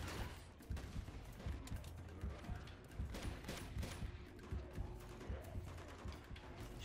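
Shotgun and gunfire crack repeatedly in a firefight in Uncharted 2, fairly distant-sounding, dense bursts of shots with no talk over them.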